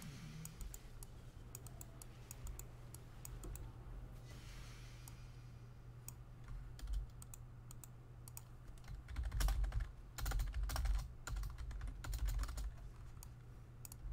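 Quiet, irregular clicking of keys being typed on a computer keyboard during a Path of Exile gaming session, bursts of keystrokes over a faint steady hum, with a couple of louder thumps later.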